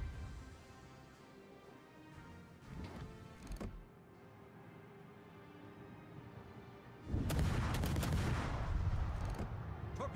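Ship guns firing in World of Warships, with a few sharp reports early on, then a loud sustained roar of heavy naval gunfire for the last few seconds, without talk.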